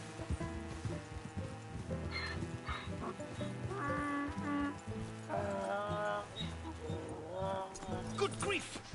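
A donkey passed off as a zebra in Red Dead Redemption 2, its hooves clip-clopping softly beneath continuous game dialogue and a tonal musical backdrop.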